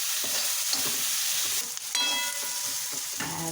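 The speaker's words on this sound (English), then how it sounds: "To this we add little of salt so that the onions roast little quicker." Onions sizzling and frying in a pan with a little salt, a steady close crackle with occasional stirring scrapes.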